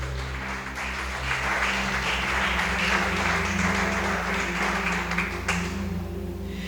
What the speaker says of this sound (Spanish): Dale otro fuerte aplauso al Espíritu Santo de Dios.